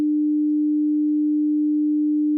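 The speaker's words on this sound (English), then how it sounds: "let's look at this exciter here real quick on this sine wave" A pure, steady low sine tone holding one pitch without change, clean and constant for the whole stretch.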